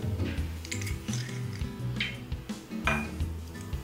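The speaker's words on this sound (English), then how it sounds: "I'm going to start by pressing the garlic into a small bowl." Garlic pressed into a small bowl for seasoning seabream, giving close clinks and scrapes of metal against dishware with soft squishy pressing, several bursts over a few seconds and no talking.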